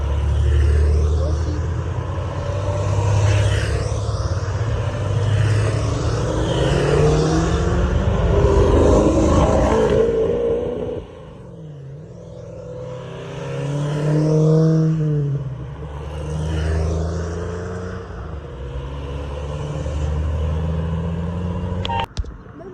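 Supercars, including a Ford GT40, a Porsche and an Alfa, rumble and rev past at the start of the Coupe des Alpes. Two long, loud passes of engine roar rise and fade in turn, with no talk over them.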